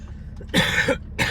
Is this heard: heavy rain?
no